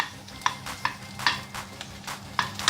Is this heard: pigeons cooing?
no